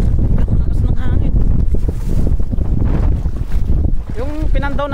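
Strong wind buffets a microphone on a boat at sea, a steady loud roar of gusts with water noise beneath, while people talk over it and a voice rises near the end.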